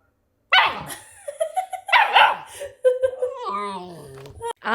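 A frisky, freshly bathed puppy yips and barks in a few close, high-pitched bursts, mixed with excited human voices and squeals.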